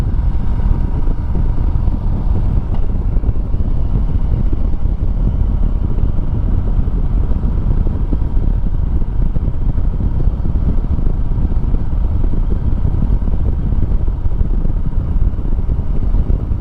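Steady loud engine drone and wind rumble from a moving Harley-Davidson Sportster 1200 motorcycle at about 40 mph, continuous and close, with no talking.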